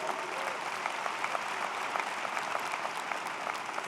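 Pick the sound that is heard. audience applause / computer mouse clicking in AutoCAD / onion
audience applause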